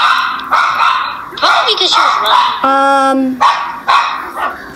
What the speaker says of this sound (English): You hear your dog barking.